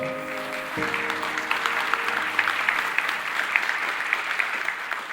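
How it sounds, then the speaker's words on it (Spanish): Church congregation applause at a Spanish-language sermon, a steady, dense wash of clapping from a large crowd that follows a brief fading tone and continues without talk. "Un aplauso."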